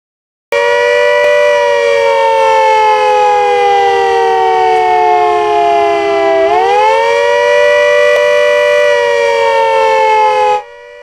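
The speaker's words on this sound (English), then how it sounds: "the wailing siren will be sounded for duration of 2 minutes" A loud wailing emergency siren at a BPCL facility holds a long tone, dips slowly in pitch, then rises again before cutting off abruptly.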